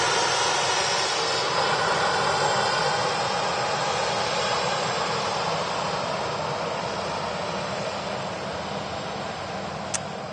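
A jet aircraft at Manchester Airport gives off a loud, steady engine roar that holds evenly for the whole stretch, with no voices over it.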